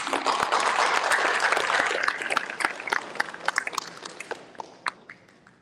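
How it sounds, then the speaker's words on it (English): An esports banquet crowd applauds loudly at first, a dense steady clapping that thins out after about two seconds into scattered individual claps before fading near the end. "let's give them a round of applause again"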